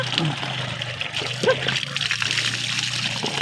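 Cold mineral water splashes and trickles steadily around a bather, a continuous wet wash with a low hum beneath it and voices mixed in.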